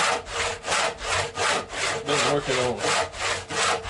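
A handsaw cuts through wooden workbench legs in steady back-and-forth strokes, about eight loud, close rasping passes in a regular rhythm with no other sound.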